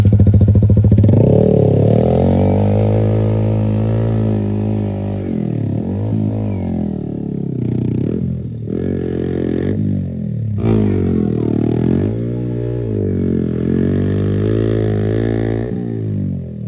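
A Yamaha R15 V3 motorcycle doing a tyre burnout, its engine loud and close, held at high revs that dip and climb repeatedly, with gritty scraping from the spinning rear tyre throughout.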